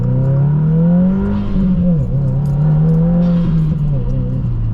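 A 2022 Subaru WRX accelerating hard, heard from inside as a loud, steady engine drone whose pitch climbs, dips briefly at a shift, then climbs again with faint rattles.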